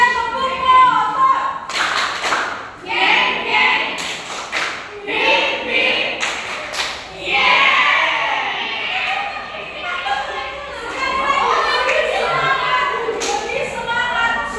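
A school class claps together in rhythmic patterns led by a teacher, bursts of hand claps and thumps mixed with children's and adult voices chanting and talking throughout.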